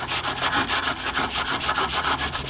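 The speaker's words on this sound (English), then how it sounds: "So this step is to remove the old finish." Old paint and centuries of finish being scraped off a wooden tool chest, a steady run of rough rasping strokes in a close, continuous rhythm with no talking.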